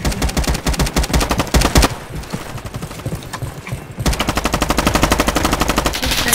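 Rapid automatic AK rifle fire in the online shooter Bloxy Frontlines, loud close bursts of dense rhythmic shots, a pause with quieter background game noise, then a longer sustained burst.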